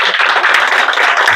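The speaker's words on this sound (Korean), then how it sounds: "여기 초대해 주신 손 대표님한테 박수 한번 주시죠" An audience at a Korean autumn outing lecture event gives a loud, close round of applause for the host who invited the speaker, a dense burst of clapping with no talking over it.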